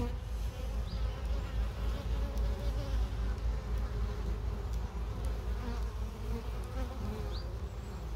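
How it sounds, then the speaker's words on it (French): Honeybees buzzing at a hive, a dense steady hum of many wings close by with a few individual bees passing near, continuous and without talk. "Donc vous pouvez voir le balai des petites abeilles."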